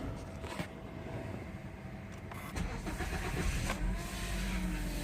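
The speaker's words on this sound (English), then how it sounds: "Let's start the car." A 2000–2006 Honda Accord's engine is started: quiet clicks and a brief whir, then the motor catches around midway and settles into a low, steady idle, close and without talk.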